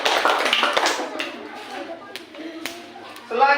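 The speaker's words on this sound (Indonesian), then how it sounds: "kasih aplaus dulu, tepuk tangan untuk kelompok 1" A small classroom group claps briefly for a student team during a religious studies lesson, the clapping fading quickly into scattered taps and children's voices nearby.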